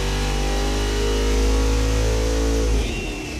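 A car engine on a dyno revs hard toward 6,500 RPM, producing a loud, continuous roar with rising harmonics that lets off near the end.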